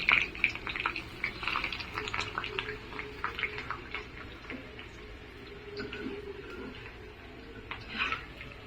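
Eggs and onions frying in hot oil for a layered egg biryani, with a steady crackling sizzle and scattered sharp pops. Faint utensil clicks sound throughout at moderate loudness, with no talking.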